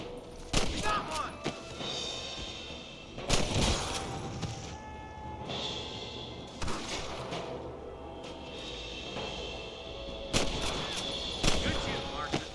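Gunfire in a shooting video game: a string of sharp, loud shots and bursts sounding in irregular clusters, with voices talking between the volleys.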